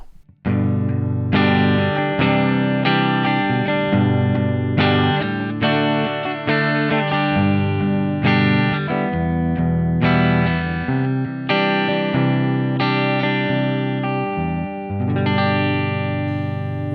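Electric guitar on its neck pickup, run through a Blue Cat Audio Axiom preset, plays a steady series of distorted, chorus-swirled chords and notes for about seventeen seconds. The tone is loud and sustained, with no talking.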